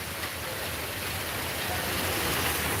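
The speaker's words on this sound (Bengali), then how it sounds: "বৃষ্টি তো হচ্ছে, বৃষ্টি হবে। এই যে গাড়িগুলো যাচ্ছে, চমৎকার একটি বৃষ্টি" Steady rain falling on a street in Sylhet, with a continuous broad wash of noise and the low rumble of passing cars beneath it, moderately loud throughout.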